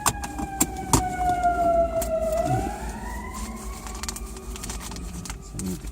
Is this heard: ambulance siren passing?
yes